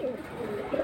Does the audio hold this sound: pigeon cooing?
yes